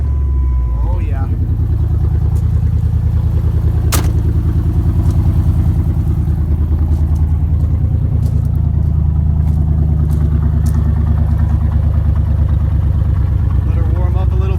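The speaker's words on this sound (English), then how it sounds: "this is the first time you're going to hear this car without cats too." A catless 1996 Ford Explorer engine idles after a cold start, a loud, deep, steady rumble heard up close, with a few light clicks and a voice speaking briefly.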